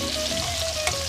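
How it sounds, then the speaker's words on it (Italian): Speck and porcini mushrooms in a frying pan give off a dense, even sizzle that stays constant throughout, close and fairly loud, with a faint clink near the end and no speech. "Lo speck è ben soffritto, a questo punto procediamo con l'aggiunta dei funghi porcini"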